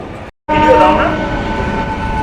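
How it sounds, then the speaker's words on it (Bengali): The Amghata–Krishnanagar EMU inaugural special train runs beneath the Krishnanagar flyover with a loud, steady rumble and a sustained tonal hum. A brief dropout comes near the start, and voices may sit faintly in the mix. "আমঘাটা কৃষ্ণনগর ইএমু উদ্বোধনী স্পেশাল ট্রেন কৃষ্ণনগর ফ্লাইওভারের নিচ থেকে যাচ্ছে"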